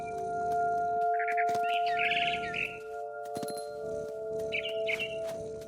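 A bird in the video game What Remains of Edith Finch chirps in two short trilling bursts over a steady electronic hum, with scattered clicks and rustles between them.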